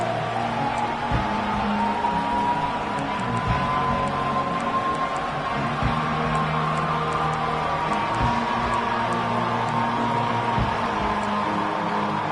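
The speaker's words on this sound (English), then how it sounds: "This crowd bringing an ear-splitting welcome to their visitors" A packed stadium crowd at a college football game roars in a steady, dense wall of noise, continuous and loud throughout with no breaks.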